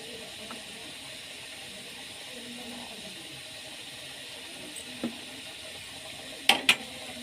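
Spices temper in hot mustard oil as a faint, even hiss that runs throughout, broken by a soft tap and then two sharp clicks near the end.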